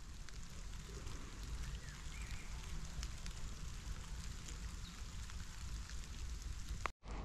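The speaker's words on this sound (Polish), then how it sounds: "deszczyk sobie pada i będzie padał" Steady light rain patters in a forest, a soft continuous hiss with faint drips throughout, cutting off abruptly near the end.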